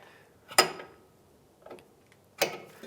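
An 18 mm wrench snugs a nut on a lower link of a 2007-2015 Mazda CX-9 during a CV axle job, giving three separate metallic clicks spaced apart against a quiet background.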